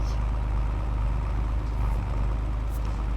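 A tractor engine in Farming Simulator 22 runs with a steady, loud, low rumble throughout, a continuous drone with no breaks or talking over it.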